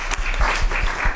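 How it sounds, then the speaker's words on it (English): Audience applause for a high school group at a school district governing board meeting, a dense, steady wash of clapping at moderate loudness throughout. "let's give another round of applause for the Rincon High School"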